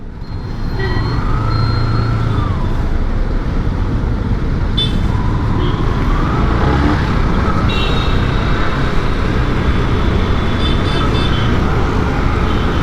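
A 10+ year old Yamaha R15 motorcycle with its stock exhaust rides through Chennai traffic, giving a steady broadband engine and road roar with passing vehicles and faint horn toots mixed in, and no talk.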